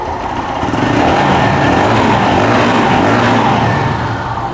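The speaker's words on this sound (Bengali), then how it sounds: "বাইকটা কিন্তু স্টার্ট করা হয়েছে দেখতে পাচ্ছেন আর সাউন্ডটা শুনতে পাচ্ছেন আপনারা" A new Lifan KPR 165R sport motorcycle with a 165cc engine idles steadily after starting, a close, loud and continuous mechanical drone with no talk over it.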